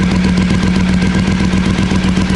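A Triumph Speedmaster motorcycle engine runs with loose, seized exhaust clamps leaking, giving a loud, steady, close-up chug with a constant low hum and rapid clattering ticks throughout, with no talking.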